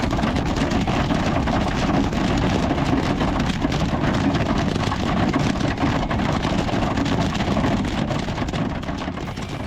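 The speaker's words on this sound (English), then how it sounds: "made it to Omaha. And it's pouring" Heavy rain in Omaha, Nebraska, during a storm pours down steadily and loudly, a dense continuous roar drumming on a surface close by, with no letup throughout.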